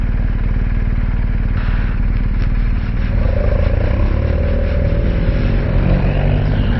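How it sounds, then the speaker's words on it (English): BMW motorcycles on a club road trip in Ireland rumble past, heard as a loud, continuous engine drone with changing pitch as the bikes go by, partly mixed with wind noise. "there's some more bikes now."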